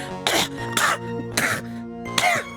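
Four coughs and throat-clears from an animated character in the Ace Attorney game Trials & Tribulations, evenly spaced and close, each a short harsh burst with a rasping, exaggerated quality and no other sound between them.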